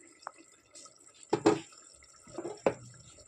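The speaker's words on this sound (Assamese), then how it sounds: "নেমু টেঙা এফাল এনেকৈ চেপি দিলোঁ" Half a lemon squeezed over chicken for pulao gives a few separate wet drips and small splats close by, spaced out over a quiet background.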